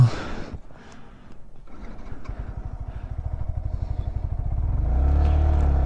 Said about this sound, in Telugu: ఆర్పిఎం కొంచెం ఎక్కువ ఇస్తేనే ఉంటుంది, తక్కువ ఇస్తే ఆగిపోతుంది బైక్